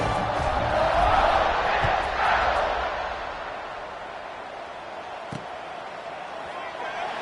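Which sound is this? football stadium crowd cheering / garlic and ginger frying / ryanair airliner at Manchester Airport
football stadium crowd cheering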